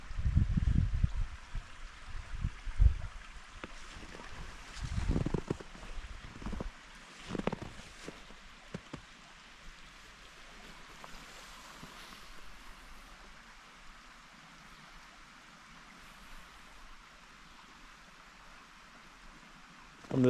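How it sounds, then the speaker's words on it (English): Water from a creek rushes in a soft, continuous stream, with a few dull thumps early on before it settles into a steady flow. "All you hear is the creek."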